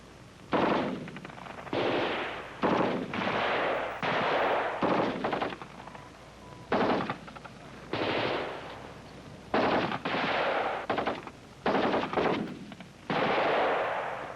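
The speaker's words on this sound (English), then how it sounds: "The rifles were fired in every mode" C7 rifles and C9 light machine guns fire single shots and rapid bursts, loud sharp cracks in clustered volleys separated by brief pauses, outdoors and echoing.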